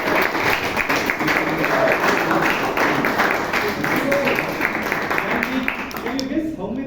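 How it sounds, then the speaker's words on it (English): Members at a Bangalore Toastmasters club meeting give a round of applause to the meeting's role takers, a full, close burst of clapping that runs steadily and then tapers off near the end, with faint voices underneath. "Can you round of applause to all the role takers?"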